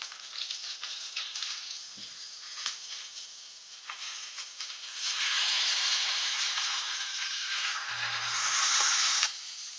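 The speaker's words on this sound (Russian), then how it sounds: "Жарится это очень быстро, только пару минут с каждой стороны." Pork chops sizzle and hiss steadily in a hot frying pan, the crackle swelling louder partway through, with a couple of soft clinks.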